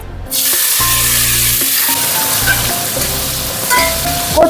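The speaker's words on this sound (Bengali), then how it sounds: "টমেটোটা এবার একটু নরম করে ভেজে নেব" Chopped large tomato added to hot oil with tempered spices for a sola kochu curry, giving a loud, steady close sizzle with occasional soft stirring scrapes.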